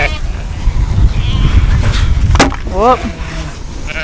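A sheep bleats loudly and close at a livestock feeder, one wavering call over steady farmyard noise, with a person speaking briefly just before.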